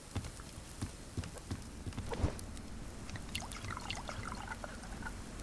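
Water being poured in the survival game Subsistence, a soft trickling splash with scattered light taps and clicks, fairly quiet and brief, with no talking.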